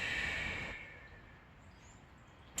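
A long forceful exhale of breath, broad and airy, lasting under a second before trailing off into quiet.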